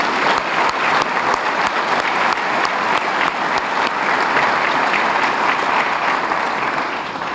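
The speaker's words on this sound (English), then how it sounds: "I want to give them a round of applause." An audience at a city's State of the City address claps continuously and loudly in a dense, sustained round of applause, with no voices rising above it.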